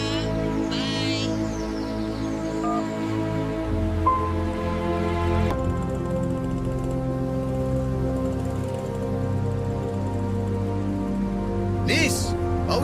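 Heavy rain pours steadily throughout, a constant close wash of falling water with voices and other sounds layered over it.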